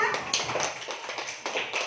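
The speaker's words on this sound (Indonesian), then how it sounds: "tepuk tangan untuk temannya" A short burst of scattered clapping from a small group of schoolchildren in a classroom, lively and close, lasting under two seconds.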